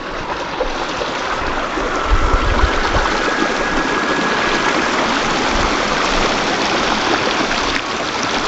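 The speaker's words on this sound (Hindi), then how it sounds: "पानी की आवाज़ें" River water rushes in a steady, loud broadband roar, constant throughout, with no voices.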